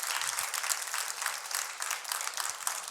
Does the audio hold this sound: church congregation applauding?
yes